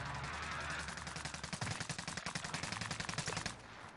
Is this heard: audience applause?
no